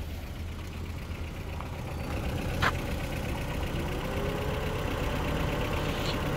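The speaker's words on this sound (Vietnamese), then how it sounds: "Nó rất là sạch đẹp, máy nổ rất là êm." A 2006 Toyota Vios engine idling smoothly with the hood open, giving a steady, even, low hum close by that grows slightly louder partway through, with one brief click.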